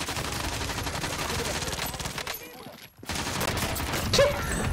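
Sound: gunfire in a video game

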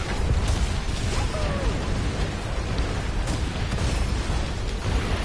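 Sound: mortar explosions in a video game

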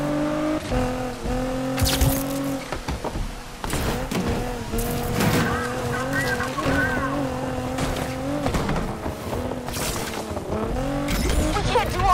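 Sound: racing car driving in video game NFS Unbound

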